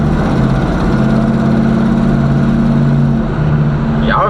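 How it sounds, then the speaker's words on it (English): A boxy Chevy with an automatic transmission cruising along, its engine holding a steady, close drone whose pitch shifts slightly as the gears change near the end; no talking over it. "Y'all hear the gears changing"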